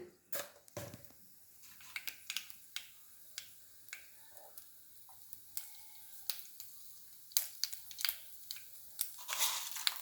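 Mustard seeds pop and crackle in heated oil for bonda made with tapioca, sharp irregular snaps over a faint steady sizzle.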